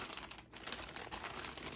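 A plastic bag crinkles and rustles continuously as yarn is unboxed, a dense, close crackling, quiet overall, with no speech.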